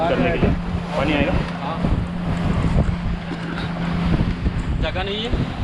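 A banana boat ride on the sea off Musandam, Oman, with wind buffeting the microphone and water rushing and splashing steadily, while people talk and shout over the noise.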